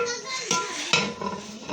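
A large cooking pot of rice being mixed, with metal scraping and clanks of a big spoon against the pot walls, several sharp knocks spread across a steady stirring rustle, no talk.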